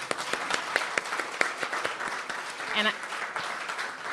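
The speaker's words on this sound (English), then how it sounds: "I just want to give her another round of applause" Scattered clapping from a party audience giving a round of applause, fairly quiet and uneven, with a voice speaking briefly over it partway through.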